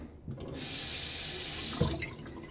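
A safety razor rinsed under a running tap, a steady broadband rush of water splashing into a sink for about a second and a half, with light clinks of metal at the start and end and no talking.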